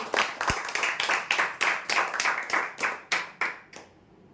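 A crowd applauds prize winners at a lottery draw with about a dozen loud, rhythmic bursts of clapping in quick succession that end after roughly four seconds.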